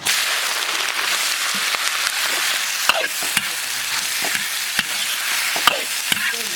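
Donkey intestine stir-fries in an oiled wok, a loud, bright continuous sizzle with a spatula scraping and tapping against the metal at irregular intervals.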